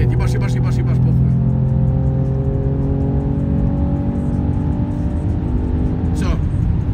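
A Mercedes CLS 6.3 V8 accelerates hard on a measured acceleration run, its loud engine note climbing steadily through the rev range from inside the car, with excited voices talking over it.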